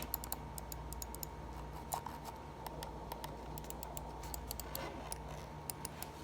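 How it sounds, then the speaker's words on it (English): Crisp, quiet clicks from a computer mouse in irregular bursts, some rapid and some spaced apart, close by with no talking. "This is the mouse, if you want to hear it."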